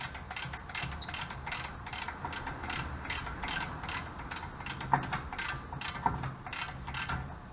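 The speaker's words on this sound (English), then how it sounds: "gonna have to get a ratchet in there this time" A ratchet clicks steadily in repeated bursts while loosening a front suspension bolt on a first-generation Mazda MX-5 Miata, close and fairly quiet, with no voices over it.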